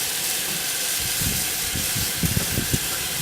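Steady broad hiss of venting steam from a locomotive, with a few faint low thumps and rumbles underneath near the end.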